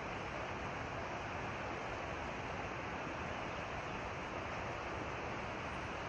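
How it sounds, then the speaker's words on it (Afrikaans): Dolphins thrash and splash in a massive feeding frenzy in the harbour off Hermanus, a steady, dense rushing roar like breaking surf that fills the clip without pause, with no voices. "Klink soos golwe, maar dis die dolfyne wat so raas."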